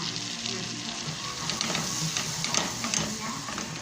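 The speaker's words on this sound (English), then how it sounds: "the butter is melted. Throw in the spoon of flour." Spoonful of flour stirred into melted butter in a very small pan while making white sauce, giving a steady close sizzle with light scraping and bubbling throughout.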